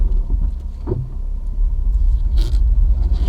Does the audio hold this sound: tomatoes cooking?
no